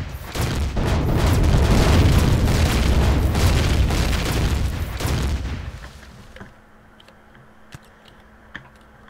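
Loud, dense rapid-fire plasma gun blasts and booming bursts in the game Empyrion Galactic Survival for about six seconds, then they stop, leaving quiet hum with a few faint clicks.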